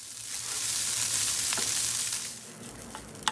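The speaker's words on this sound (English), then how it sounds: "we can add the cold volcano rice or um, leftover rice and stirring until heated through" Cold leftover rice stir-fried in a hot pan for volcano fried rice sizzles close and steady, with faint scraping and a sharp utensil knock near the end.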